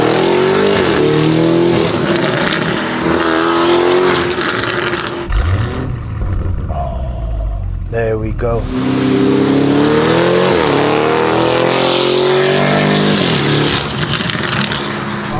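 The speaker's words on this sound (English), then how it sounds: "it's loud. As you still hear when I flick the switch." Loud exhaust roar and revving from a 780 hp widebody Lamborghini Urus with an aftermarket exhaust system, close up, with a brief lull mid-clip before the engine surges again, and a few words spoken quietly over it.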